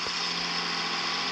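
A tractor engine idles steadily with a constant droning hum, close and unchanging, in the video game Farming Simulator 23.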